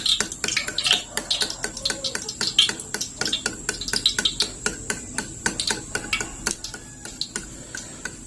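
Rapid rhythmic clicking of a fork whisking eggs for frying against a bowl, close and steady, continuing for several seconds.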